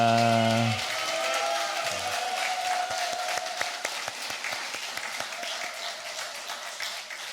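A Korean church congregation claps in praise to God, a steady spread of applause with individual sharp claps standing out, following a brief sustained musical tone at the start and thinning gradually toward the end.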